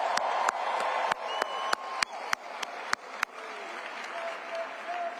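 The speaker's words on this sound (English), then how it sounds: "Give them a round of applause." Crowd applause with cheering at a Harris–Walz campaign rally in Glendale, dense clapping under a run of sharp, evenly spaced claps, easing slightly toward the end.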